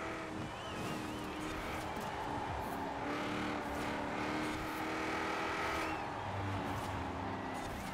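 Engine roar of a car launching hard and accelerating in Forza Horizon 4, a continuous high-revving drone with rising gear-change sweeps and other race cars layered in the mix.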